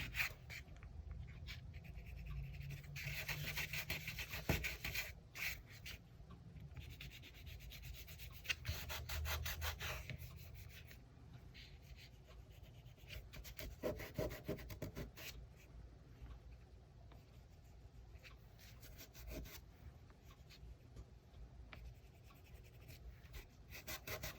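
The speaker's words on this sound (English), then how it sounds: "rubbing it out with my finger, kind of smoothing it." A finger rubs and smooths a drawing on paper in a quiet room, making soft, close scuffing strokes that come in irregular bursts and pauses over a long stretch.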